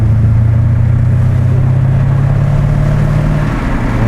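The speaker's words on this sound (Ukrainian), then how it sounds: "І от саме це буркотіння мотора це теж щось незабутнє." A Mercedes-Benz CLS 55 engine rumbles steadily at idle, a deep, loud, continuous drone that holds even for about three and a half seconds before easing slightly, with no voices over it.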